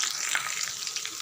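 Okra frying in hot oil with dried red chillies, a steady close hiss and crackle of sizzling that holds without pause through the whole short moment.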